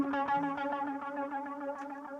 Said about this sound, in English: Now let's add my chorus. This is now giving us the stereo feel.